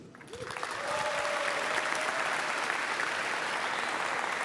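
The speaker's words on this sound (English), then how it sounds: "I would also like to give a big applause to all the partners and sponsors" Steady applause from an audience at the FTC European Premier robotics event in 2025, honouring partners and sponsors: dense clapping that swells within the first second, then holds loud and even throughout, no voices.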